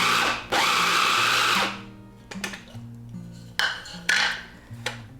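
A blender blitzes dandelion pesto in short loud bursts, the motor surging on and off with pauses between pulses as the blades churn the greens.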